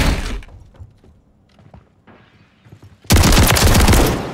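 An automatic shotgun fires in an online shooter game, with a loud burst of blasts, scattered quieter game sounds and impacts in between, then a dense roaring volley of rapid shots to the end.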